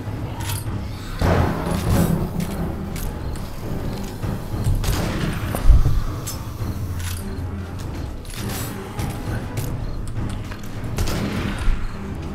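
Shotgun blasts ring out in the zombie survival game 7 Days to Die during a blood moon fight, several heavy booming shots spaced irregularly over steady background noise, loudest near the middle, with no talking.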